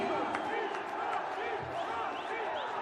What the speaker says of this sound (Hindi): अपार जनसमूह ने जय श्री राम और मोदी मोदी के नारे की गूंज